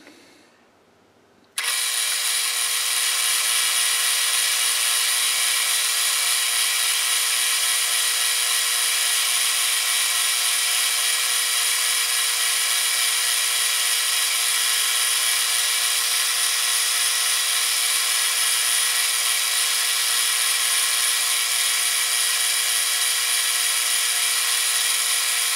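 Lathe taking a finishing pass with a finer feed at about 635 RPM, a steady high-pitched whine starting abruptly after a brief quiet moment and continuing evenly at close range.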